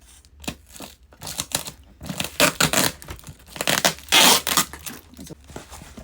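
Packing tape tears and crinkles off a cardboard shipping package for a thermal label printer. Close, loud bursts of ripping and crumpling come in irregular spurts, with no voices.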